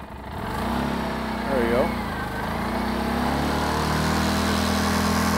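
A motorcycle engine idles steadily after a jumpstart, a low continuous hum with a brief rise as the throttle is twisted; a person speaks briefly over it.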